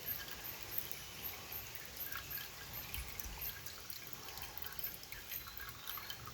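Water slowly trickles and drips as it drains out of an opened aquarium canister filter that had been sealed for six years, a faint, steady, wet patter close by with no voices.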